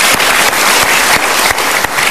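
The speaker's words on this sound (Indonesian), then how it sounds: "Kita berikan tepuk tangan untuk pilihan Anda." Dense, steady applause from a crowd fills the whole stretch, loud and continuous with no voices over it.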